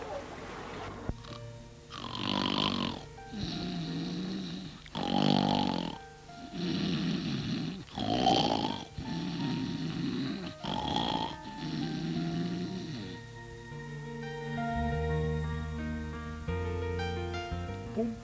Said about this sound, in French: Il y en a même qui ronflent.